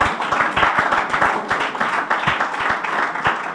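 A church congregation applauds together in steady, dense clapping, loud and close, with fast overlapping hand claps carrying on throughout.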